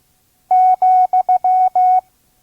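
Steady beeping Morse code sounds the comma as dash-dash-dot-dot-dash-dash, one clear mid-pitched tone keyed loud and close with silent gaps around it, at slow five-words-per-minute training speed.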